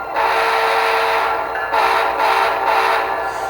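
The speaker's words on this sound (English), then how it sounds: "we're going to blow our whistle signal, which in this case will be a long and 3 short." Model train whistle from a Tsunami2 diesel sound decoder, sounding loud and close as a sustained tone with brief dips that suggest one long blast followed by short ones, with no talk.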